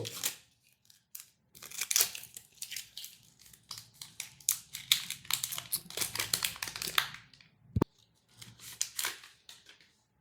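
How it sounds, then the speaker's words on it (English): Plastic wrap and packaging from a Moto Edge 60 Pro phone box are torn and crinkled close up, with bursts of rustling and crackling between short pauses and one sharp snap near the end. "Let me to quickly unwrap the device."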